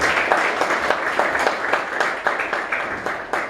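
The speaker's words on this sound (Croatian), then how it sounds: "molit ću aplauz za gospodina Juricu" Audience applause for Jurica Gašpar at a Split culture days event in Belgrade, steady dense clapping from a sizable crowd with distinct individual claps standing out, fairly close and loud throughout.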